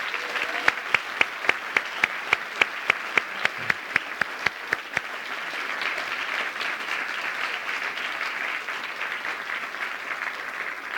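Audience applause at a national apprenticeship awards ceremony for the finalists, opening with a run of sharp, evenly spaced claps over a steady wash of crowd clapping that carries on loudly to the end.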